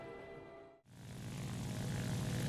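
Ki-43-II propeller fighter in War Thunder, a steady droning engine and propeller roar that dips briefly near the start, then swells back to a loud, continuous hum while climbing.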